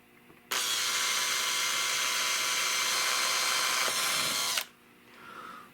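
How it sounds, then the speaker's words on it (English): A power drill whines steadily at high speed for about four seconds while drilling out a metal plug on an old Fox shotgun, then cuts off abruptly, leaving faint background noise. "I may have to drill it out."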